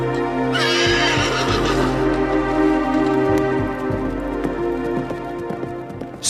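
Horses whinny loudly up close, a shrill neigh rising early, with hoof clops and rattling movement continuing throughout.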